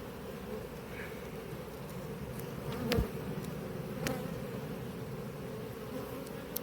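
Agitated honey bees at an apiary hive make a dense, steady buzzing drone, fairly faint and close, with a few sharp clicks and bumps.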